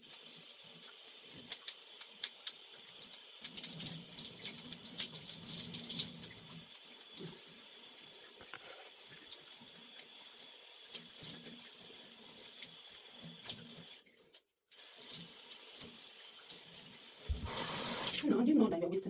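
Water runs from a sink tap during hair washing, a continuous hiss and splash that stops briefly near the end before surging back, with a child and an adult talking over it.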